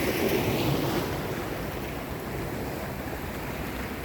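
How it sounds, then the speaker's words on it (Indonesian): Calm sea waves washing onto the beach by a rock breakwater at Muarareja Beach in Tegal, a steady soft surf wash with light wind rumble on the microphone and no voices. "dan gelombang pun tenang"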